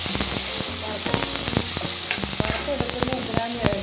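Sliced bitter gourd (pavakka) fries in hot oil, a busy close crackle of sharp pops and sizzling over a steady bubbling hiss, with stirring sounds mixed in.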